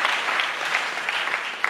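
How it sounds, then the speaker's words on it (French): Brief burst of audience applause for an honoree at a debate competition final in Kinshasa, steady crowd clapping that cuts off abruptly at the end. "Est-ce qu'on peut l'applaudir également?"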